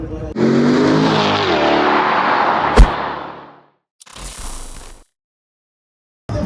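Race cars roar past loudly one after another, engines screaming and fading, with gaps of near silence between passes.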